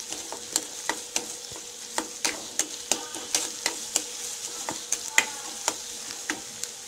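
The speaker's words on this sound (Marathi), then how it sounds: "तेल गरम झालं की त्यात आपण गाजर टाकायचे. गाजर चांगलं परतायचे." Carrots being sautéed in hot oil, a soft steady sizzle broken by regular sharp taps of a spoon stirring against the pan, close and without speech.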